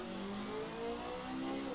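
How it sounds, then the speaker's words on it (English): A GT3 race car in Assetto Corsa engine-braking in third gear on the Macau circuit, a steady mid-pitched engine drone with gently falling then rising revs, continuous and fairly close. "Engine braking down that third gear."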